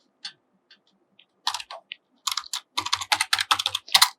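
Keys clack on a computer keyboard as C code containing a printf statement is typed during a lesson on pointers: a few sparse, separate clicks at first, then quicker, steadier bursts of close, crisp keystrokes with no voices.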